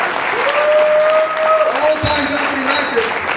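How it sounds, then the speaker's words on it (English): Audience applause at a financial company event, loud sustained clapping with scattered cheers and a voice speaking over it near the start. "let's give him a big round of applause"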